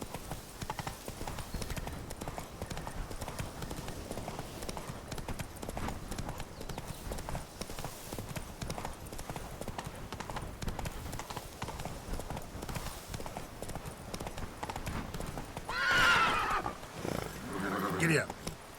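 Horse galloping in The Witcher 3 video game, a fast rhythmic run of hoofbeats on the ground that continues steadily, with a brief whinny near the end and occasional voice.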